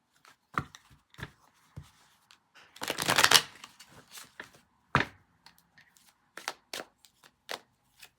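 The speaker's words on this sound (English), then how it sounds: "One more shuffle." Tarot cards shuffled by hand nearby: scattered taps and flicks, a brief riffling burst in the middle, then more soft slaps as the deck is squared.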